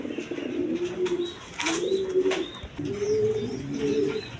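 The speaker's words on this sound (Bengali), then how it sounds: "দর্শকবৃন্দ, এখানে এক পেয়ার বোম্বাই কবুতর, দেখেন নর মাদি" A male and female pair of Bombay pigeons cooing close by in soft, rolling, repeated coos, three clear phrases with brief pauses between them.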